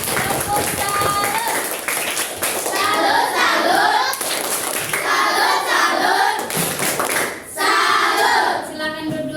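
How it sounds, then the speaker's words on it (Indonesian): Children in a 6B classroom clapping their hands, brisk scattered clapping mixed with lively kids' voices and shuffling, close and fairly loud throughout, with an adult talking over it. "Iya, tepuk tangan. Tepuk tangan."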